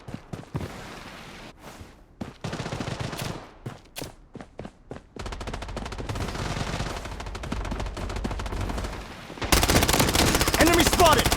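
Rapid automatic gunfire from the shooter game Blood Strike, loud, dense bursts with sharp onsets that intensify toward the end, with scattered single shots earlier and no talking.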